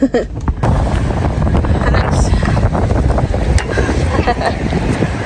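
Strong wind buffets the microphone continuously, a loud rumbling roar with gusty fluctuations throughout.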